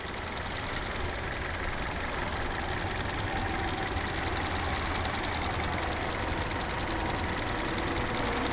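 A 2020 Kia Rio LX with its 1.6-liter engine idles steadily, a continuous even mechanical hum with a fine rapid ticking texture, heard close and alone without any talk.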